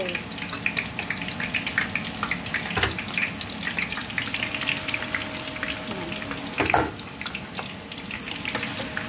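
Shallots and other ingredients for XO sauce sizzle and crackle steadily in a generous amount of hot oil, a dense continuous frying hiss with scattered pops, heard close and alone.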